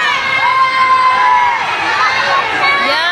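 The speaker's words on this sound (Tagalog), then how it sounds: "grabe po talaga yung tilian, hiyawan ng mga tao pagkakita nila kay Elias J TV" A large crowd screams and cheers at an outdoor soundcheck in Claver, Surigao del Norte, a loud, dense, continuous wall of high shrieks and excited voices.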